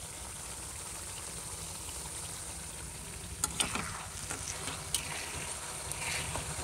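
Julienned potato sticks (jhuri alu) fry in a pan with a steady, close oil sizzle that runs throughout, joined by a few brief clinks and stirring scrapes toward the end.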